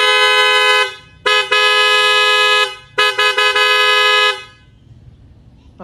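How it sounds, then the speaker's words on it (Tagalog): Loud aftermarket horn on a Suzuki Raider fuel-injected motorcycle, running on a weak battery, blares close up in three long blasts, the last one stuttering, and then falls silent. "Ito yung stock, ito yung loud horn."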